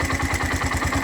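A Bajaj Compact 4-stroke three-wheeler engine idles just after starting, a close, steady low chugging with a regular pulsing rhythm and slight clatter.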